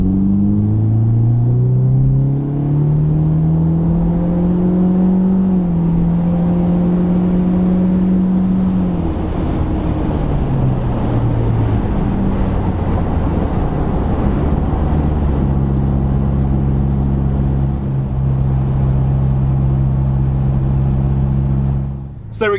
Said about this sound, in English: See how we're droning at about 55 and above, so that way you can see if this is an exhaust that you can live with.